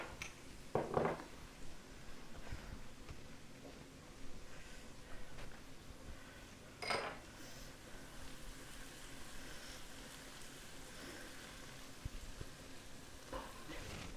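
Minced beef frying in a pan with paprika, cumin, salt and pepper, giving a soft steady sizzle with occasional louder stirring scrapes, fairly quiet throughout.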